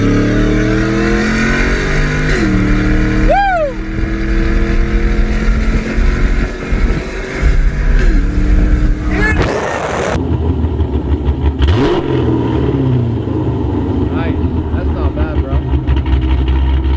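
Cammed Hemi V8 fitted with a Comp Cams camshaft, idling with a choppy lope and blipped into loud revs nearby, with people talking over the engine throughout.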